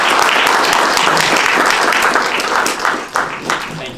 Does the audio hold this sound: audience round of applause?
yes